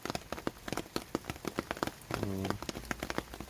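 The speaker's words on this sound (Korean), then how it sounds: "그래서 저는 비가 올 때마다 이렇게 인위적으로 비를 맞춰줍니다." Water sprinkled artificially over a potted lemon tree patters on leaves and surfaces like rain, a close, irregular run of drips and splashes with a brief tonal hum partway through.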